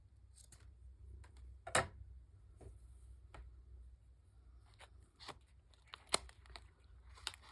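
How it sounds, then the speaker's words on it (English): Scissors cut a strip of lace in a quiet room: a few sharp, close snips and crisp rustles stand out against a low, steady background hum, with no talking. "I've got some lace over here to the side. Just gonna cut a strip off that."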